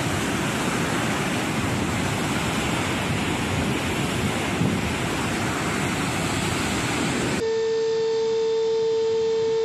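Water rushes from the opened floodgates of the Três Marias dam on the São Francisco River as a loud, continuous roaring wash. Near the end it cuts to a quieter steady tone.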